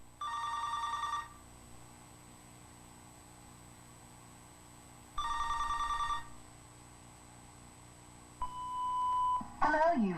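Telephone ringing before an answering machine picks up, two long electronic rings separated by a pause, then a single steady beep and a clatter as the machine engages, all fairly faint over a low hum.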